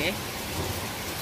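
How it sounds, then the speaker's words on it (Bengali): Heavy rain falling outdoors, a dense steady hiss of drops lasting about a second, with no other sounds standing out. "কেমন বৃষ্টি হচ্ছে দেখো"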